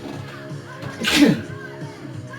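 A single sneeze bursts out around the middle, brief and fairly close, set against a quiet background with faint room tone before and after.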